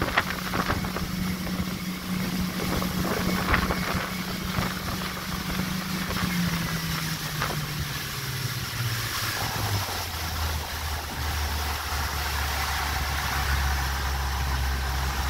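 A 2014 Harris pontoon boat engine hums steadily at full throttle, 6,000 RPM, then its pitch slowly sinks as it throttles down, with water noise rushing underneath.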